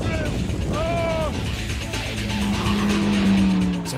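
Ariel Atom racing on a track, a loud continuous engine roar with shifting pitch and a brief tyre squeal, heard alone without talk.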